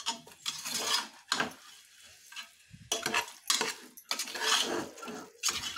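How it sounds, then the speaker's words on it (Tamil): Curry leaves and coriander sautéed with chicken in a pan, with repeated scraping and stirring strokes of a spatula against the metal and a soft sizzle underneath, close and steady. "கருவேப்பிலை போட்டுக்கலாம். அப்படியே கொத்தமல்லி போட்டுக்கலாம். போட்டு நல்லா வதக்கலாம்."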